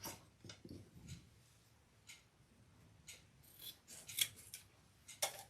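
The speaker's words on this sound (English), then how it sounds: "I just need one gold zipper pull. Let me cut this off." Scissors snipping off a gold zipper pull from a long zipper chain for a handbag, with a few close, crisp cuts and small rustling handling sounds between them.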